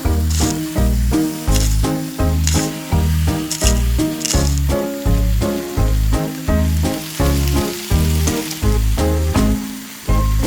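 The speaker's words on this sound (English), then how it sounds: "Put the burrito in when the butter is hot." A fish-filled tortilla burrito sizzles steadily frying in hot butter in a pot while rhythmic background music with a regular thumping beat plays loudly over it.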